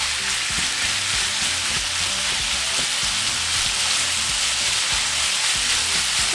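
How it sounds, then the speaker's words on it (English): Steak frying in a pan, a loud, close, dense sizzle and crackle of hot fat that holds steady throughout, with low bumping underneath. "So we're just going to cook our meat."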